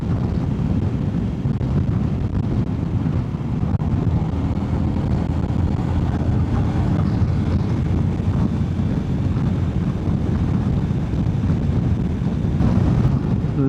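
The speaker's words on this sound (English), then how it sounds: "Ooh, I'm getting some serious buffeting around my head." Steady, loud wind buffeting roars around a rider's helmet at motorway speed on a CFMOTO 800cc motorcycle, a continuous broadband rush with engine and road rumble beneath.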